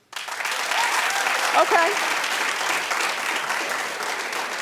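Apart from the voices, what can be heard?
studio audience applause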